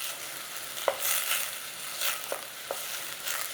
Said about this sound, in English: Little stir on those onions.